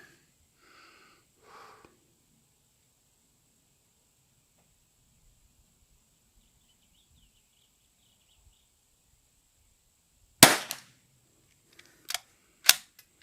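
Outdoors on a very hot day, a Zermatt Arms RimX stainless steel rifle with a thick barrel fires about three sharp, loud cracks spaced a second or two apart, following a long near-silent stretch with a few faint noises.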